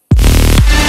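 A sudden, very loud electronic bass drop slams in after brief silence, thick and distorted, with a second heavy hit halfway through that keeps roaring to the end.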